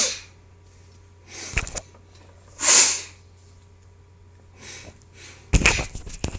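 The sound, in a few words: nose blowing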